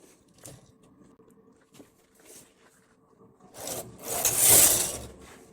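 An SK280 home knitting machine carriage is pushed across to knit one row with main colour yarn: faint clicks first, then a close, loud, rasping sliding sweep that swells and fades over about two seconds.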